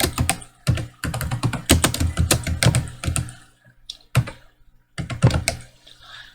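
Quick keystrokes on a computer keyboard while an address is typed into MS Word, close and crisp, coming in fast clusters broken by brief pauses and a few isolated taps near the end.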